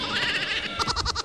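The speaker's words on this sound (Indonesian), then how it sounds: "Suara apa itu? Kambing." A goat bleats at a farm or petting area, a loud, close, wavering cry that breaks into a pulsing, stuttered second half.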